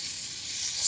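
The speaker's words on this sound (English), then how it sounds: "Then just put the meat in, wait for the sizzle" Meat sizzling as it goes into hot oil in a flame-proof casserole for a chicken stew, a steady bright hiss that swells slightly toward the end, heard alone.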